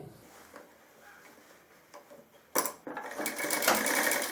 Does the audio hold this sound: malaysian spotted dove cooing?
no